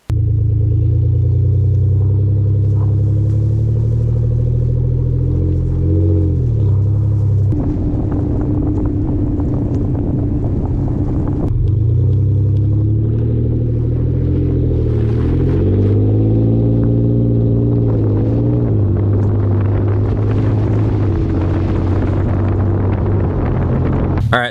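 Ford F-150 pickup with an MBRP aftermarket exhaust cruising on the road, a continuous deep engine drone heard from inside the cab, rising and falling with throttle amid steady wind and road rumble.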